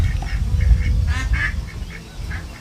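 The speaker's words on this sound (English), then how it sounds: "You got to see these ducks." Several ducks quack repeatedly outdoors on an off-grid homestead, moderately close, with a steady low rumble of wind or ambient noise underneath and no talk.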